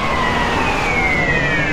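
Police car siren in GTA San Andreas, a steady wailing tone sliding slowly in pitch over loud traffic and engine noise, close and continuous.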